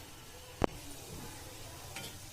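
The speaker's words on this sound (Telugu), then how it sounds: "ఇప్పుడు వెజ్ నగెట్స్ ఇవి 6 minutes ఫ్రై అవ్వాలండి మిడిల్ ఫ్లేమ్ లో" Aloo veg nuggets fry in oil on a medium flame with a faint, steady sizzle, broken by one sharp click near the start and a softer tap later, no voices.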